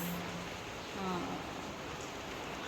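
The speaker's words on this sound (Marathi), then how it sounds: "इथं आलो तर इथं पण पाऊस आलाय" Rain falling at home in Mahabaleshwar, a steady broadband hiss that stays even and moderately loud through the whole stretch, with no voices over it.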